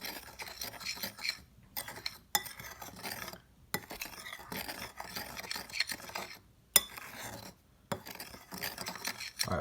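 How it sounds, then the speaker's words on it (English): A spoon scrapes and clinks against a bowl while stirring protein brownie batter with sugar, rapid close rasping strokes broken by brief pauses and occasional sharp taps. "And then you're just gonna stir that up real good."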